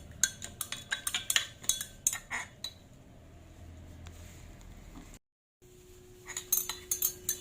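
A solution is stirred in a container until it dissolves for gold plating, with close, rapid clinking and scraping in irregular bursts, a quieter stretch, a brief silence, then more clinking.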